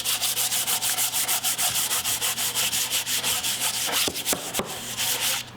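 Rhythmic back-and-forth sanding strokes on painted trim, close and steady, a quick scratchy rasp repeating about twice a second, with no talking.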